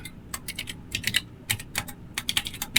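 Text being typed on a computer keyboard, close and moderately loud, with quick clusters of sharp key clicks and a few brief pauses between bursts.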